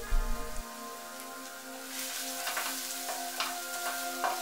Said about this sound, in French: Faire revenir 10 secondes l'ail et le gingembre.